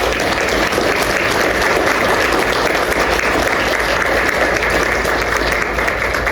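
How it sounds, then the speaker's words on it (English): Audience at a county commission candidate forum giving a round of applause, a loud dense continuous clapping from a roomful of people, steady throughout with no talk. "Could you give them a round of applause, please?"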